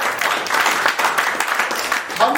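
Audience clapping after a motivational talk on networking, a steady crackling wash of hands through the whole stretch with some voices mixed in.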